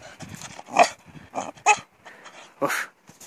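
A Shiba Inu barks on command in the snow, giving four sharp, loud barks spaced roughly a second apart, with brief quiet gaps and soft background noise between them.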